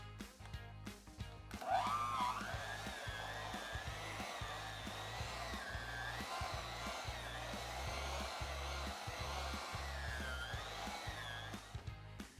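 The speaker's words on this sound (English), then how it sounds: "one last spin with the mixer to get everything combined" An electric hand mixer blending banana bread batter with mashed bananas in a bowl: a steady, close motorized whine with a gently wavering pitch, running for about ten seconds before stopping, and no talking.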